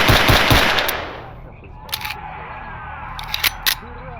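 A 9x18 pistol fires in S.T.A.L.K.E.R. Anomaly, a dense burst of loud close shots at the start giving way to a few sharp clicks and isolated reports over quieter background.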